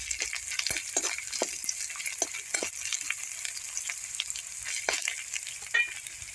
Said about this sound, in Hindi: अदरक और लहसुन को फ्राई करते हुए हमें 1 मिनट हो गया है।